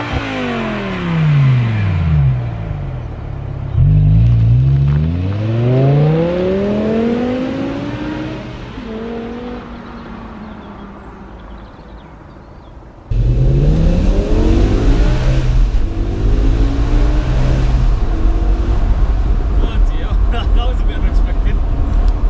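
BMW M5 E60 engine revving hard, the pitch sweeping up and down repeatedly through gear changes before a sudden loud, sustained high-rev roar; close and powerful, with occasional voices underneath.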